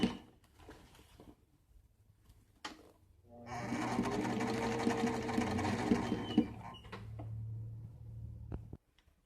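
A sewing machine stitches the hem of a man's trouser cuff, a steady mechanical run of about three seconds from midway through, bracketed by quiet handling of the fabric before and after.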